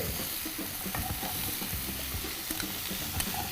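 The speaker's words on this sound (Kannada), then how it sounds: "ಟೊಮೆಟೊ ಈರುಳ್ಳಿ ಹಸಿಮೆಣಸಿನ್ಕಾಯಿ ಕರಿಬೇವು ಚೆನ್ನಾಗಿ ಫ್ರೈ ಆಗ್ತಾ ಇದೆ" Chopped tomato, onion, green chili and curry leaves fry in a pan for an egg boti fry, with a constant close sizzle and repeated spatula scrapes and taps while stirring, and no voices.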